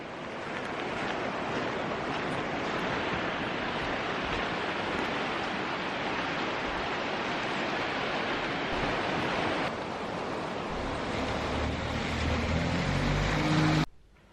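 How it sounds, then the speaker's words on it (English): Heavy rain falls beside a swollen, fast-running river, a dense, loud, continuous wash of noise that holds steady throughout before cutting off at the end. "It's heavy, heavy rain."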